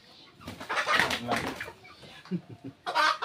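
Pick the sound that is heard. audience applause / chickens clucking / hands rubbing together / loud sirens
chickens clucking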